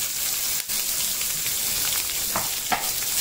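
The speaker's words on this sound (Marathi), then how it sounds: "कांदा चांगला परतून घ्यायचा" Chopped onion frying in a pan with asafoetida and curry leaves for a chickpea usal, giving a steady, close, continuous sizzle with faint stirring clicks.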